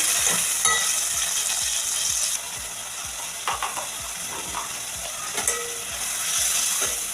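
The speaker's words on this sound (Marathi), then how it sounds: "ही जी टोमॅटोची प्युरी केलेली आहे ही घालून घेऊयात आणि टोमॅटोची प्युरी छान शिजू द्यायची आहे" Tomato puree cooking in a pan for a fish curry, giving a steady bubbling sizzle with rhythmic stirring clicks and scrapes throughout, close and fairly loud, with no talking.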